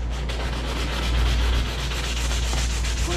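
Sandpaper of 220 grit rubs over a 1989 Club Car DS golf cart fender, a continuous close, loud scratchy hiss with steady back-and-forth strokes and no talking.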